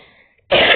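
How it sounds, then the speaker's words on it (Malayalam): A single short, harsh throat clearing and cough from a young person, close and loud, bursting in after a quiet lead-in. "ചുമയെല്ലാം തന്നെ."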